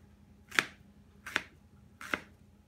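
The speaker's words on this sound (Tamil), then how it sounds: "இந்த மாதிரி தோலை கட் பண்ணிட்டு கொஞ்சம் சைஸ் பெருசு பெருசா கட் பண்ணிக்கங்க" A knife slices peeled raw plantain into large chunks, giving three crisp, separate cuts about three-quarters of a second apart, close and clear against a quiet background.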